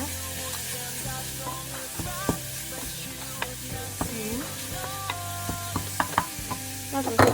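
Cauliflower rice frying in a pan, with a steady close sizzle and repeated scraping and clinking strokes of a utensil as it is stirred, plus a faint tonal hum in the background.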